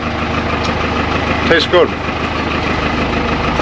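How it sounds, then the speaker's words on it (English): A tractor engine idles steadily while driving a power takeoff pump that agitates dye in a Christmas tree planting field, a constant low mechanical rumble under a brief spoken remark. "I'm going to start my power takeoff pump so I can agitate the dye as we're driving"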